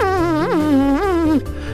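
A voice hums a wavering, nasal buzz that rises and dips in pitch twice, imitating an insect-like sound effect, then cuts off abruptly.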